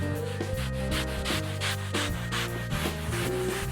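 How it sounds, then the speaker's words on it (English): A scrub brush rhythmically agitates a leather car seat, each quick stroke a soft bristly rasp. The strokes repeat steadily at close range over a background of tonal music. "Simply take the scrub brush, gently agitate the seat."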